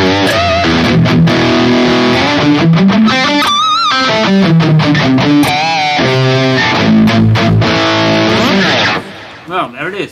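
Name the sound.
high-gain electric guitar amp tone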